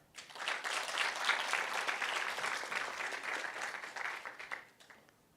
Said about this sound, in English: give that person a big round of applause